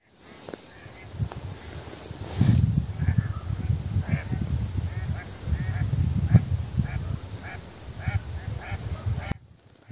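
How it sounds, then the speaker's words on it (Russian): A flock of wild ducks calls over and over on a marsh during spring hunting, a dense chorus of honking quacks carrying across open ground at a moderate distance, with no talking. "это не наша подсадная. Это дикие утки."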